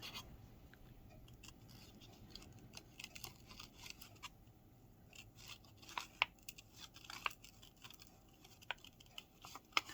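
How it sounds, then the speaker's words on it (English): Scissors snip through paper for fussy cutting, producing faint, close, irregular clicks and crisp cuts scattered across a quiet background with no talking. "So I'm going to fussy cut them both"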